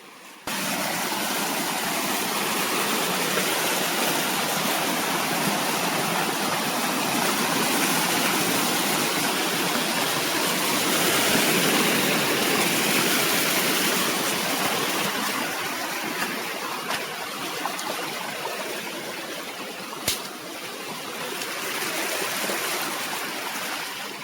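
At the Sanguloya 3 (Jantala) waterfalls, water rushes and a stream flows in a continuous, loud roar that swells slightly mid-way and eases toward the end, with no talking.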